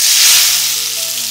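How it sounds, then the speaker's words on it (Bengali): Garlic and Kashmiri red chili powder sizzling in hot oil as a tempering for egg tadka, a loud, steady crackling fry heard alone and close up, easing slightly toward the end. "রসুনটা একটু ভেজে নিচ্ছি।"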